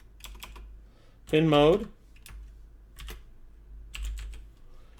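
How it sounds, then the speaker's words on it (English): Computer keyboard keys clatter in short bursts while code is entered for an Arduino Uno project, light close clicks spread across the clip, and a brief spoken phrase sits in the middle. "I'm going to type it in here"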